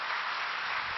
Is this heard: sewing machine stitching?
no